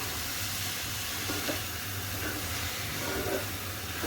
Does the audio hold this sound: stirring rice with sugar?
yes